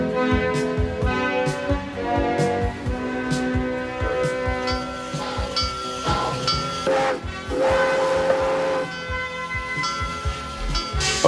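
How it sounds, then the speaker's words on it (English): A steam train on the Transvelt Railway at Busch Gardens theme park chugs and hisses with whistle-like tones and rattling metal, a busy mechanical rumble running throughout. "Around on one of the Transvelt Railway's old-fashioned steam engine trains."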